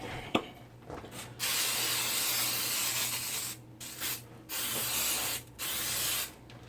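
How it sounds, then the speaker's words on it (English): Several bursts of cooking spray hiss up close while greasing a brownie pan, each lasting about a second, separated by brief pauses over a steady low hum. "And I'm going to hit it with a little spray."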